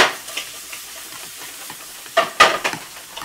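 Eggs being stirred for an omelet in a pan, a soft scraping and sizzle running throughout with a few sharper clanks and scrapes near the end; no one talks.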